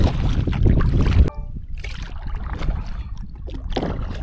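Gusting wind buffets the microphone while a kayak or canoe is paddled near marshland, a loud roaring blast that cuts off abruptly, followed by quieter paddle splashes and water trickling.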